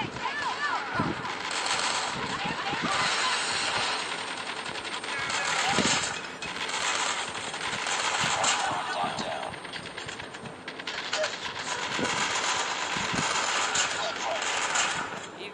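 Burst-fire gunshots from a gun in Call of Duty, rapid repeated cracks in clusters over a busy game soundscape, with other weapons firing and a voice talking over it at times.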